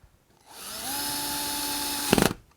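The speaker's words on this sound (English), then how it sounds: "I like my cordless drill." A cordless drill whirs steadily up to speed for about a second and a half, close by, ending with a brief louder burst of grinding, while installing a door lever lock.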